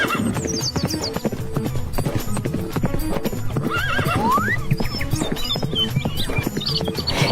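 A mare walking with steady, close clip-clopping hooves throughout, breaking into a whinnying neigh partway through, with no talk.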